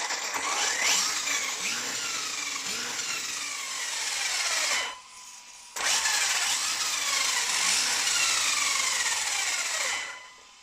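HobbyKing Sabertooth RC car motor spinning with no load gives a loud, close, high-pitched whine whose pitch sweeps up and down, with a brief drop-out partway through before it spins up again.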